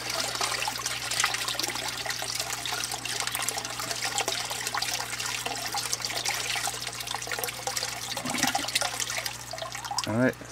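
Water rushes steadily through an aquaponics siphon on a small backyard grow bed. The flow is a continuous close-up gurgling and splashing for the whole stretch, with a brief louder surge near the end.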